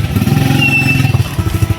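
A motorcycle engine running close and loud, a throbbing, pulsing idle with a brief rise in pitch.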